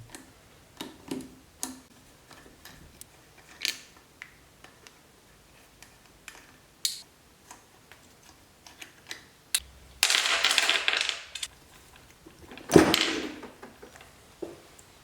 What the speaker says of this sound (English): I'm loosening the bolts in a crisscross pattern to relieve unwanted pressure